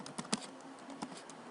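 Typing on a computer keyboard gives soft, close key clicks in an irregular run, a few taps standing out louder, quiet overall and with no voice.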